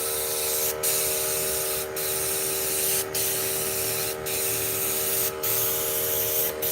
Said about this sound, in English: There's a lot of overspray on this one. A lot more than normal.